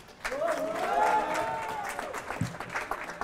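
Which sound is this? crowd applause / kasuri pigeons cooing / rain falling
crowd applause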